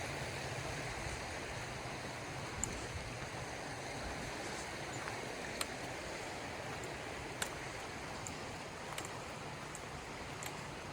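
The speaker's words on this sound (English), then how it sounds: "Oh, they hear the water flow." A stream flows steadily through the quiet woods of Cades Cove on a cold morning, a soft, even rush of water with faint, brief clicks above it and no voices.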